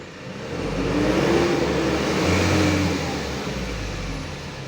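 A car engine runs steadily and revs up and down, the idle held high as the RPM climbs, a close mid-pitched hum rising and easing over several seconds with no talk.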